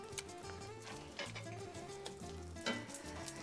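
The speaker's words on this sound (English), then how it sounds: "I'm going to put it on a skillet, and I'm going to add some beans to my skillet." Beans sizzle and fry in a skillet for breakfast burritos, a close, steady crackle with scraping stirs and occasional louder sputters, no voices.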